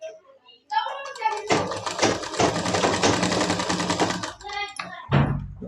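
An electric sewing machine stitches a frock in a steady, rapid mechanical rattle lasting a few seconds, with short bursts before and after and a voice speaking around it.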